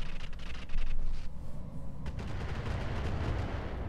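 An artillery barrage in the mech combat game Roguetech: a cluster of rapid booming impacts at the start gives way to a sustained low rumble, fairly quiet and with no speech over it.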